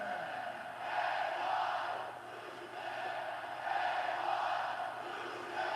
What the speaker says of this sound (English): The crowd chanting day one douchebag to Jinder Mahal.